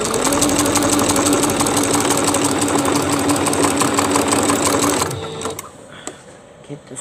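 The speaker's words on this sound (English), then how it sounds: "then I'm going to go ahead and sew it." A sewing machine stitching fabric appliqué, a loud, rapid, steady mechanical whir that runs continuously for about five seconds, then stops abruptly, leaving quiet handling sounds.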